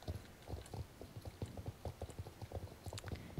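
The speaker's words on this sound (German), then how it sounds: "Oh wow, dieses kleine Pferdchen ist wirklich schnell." Horse hooves clip-clop in a steady, quick rhythm as a small, fast horse runs in the online game Star Stable Online, with a faint mechanical ticking at times and no talking.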